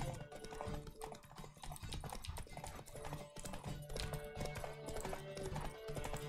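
Horse hooves gallop at a fast, steady clip during a race in The Witcher 3, running continuously under dense game music and effects at moderate level.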